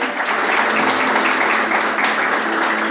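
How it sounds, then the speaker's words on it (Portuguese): A crowd at a Catholic religious gathering claps steadily for a few seconds, a dense wash of applause with faint voices mixed in. "Pode aplaudir Nossa Senhora aí."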